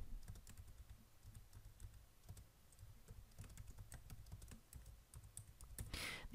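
Steady, continuous typing on a computer keyboard while entering text in Microsoft Word, a close run of quick, light key clicks with no talking, rising slightly louder near the end.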